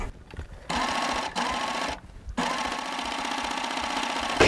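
A serger fitted with a binding foot runs a cover stitch over fabric binding, a loud close motor whir with rapid needle chatter that stops briefly twice and then carries on steadily.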